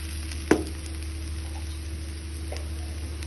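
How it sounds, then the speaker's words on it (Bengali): Rice being fried in a pan for chicken biryani gives a soft continuous sizzle under a low hum, with a sharp clink of a utensil early on and a fainter one later. "আমি 3-4 মিনিট চালটা ভেজে নিয়েছি"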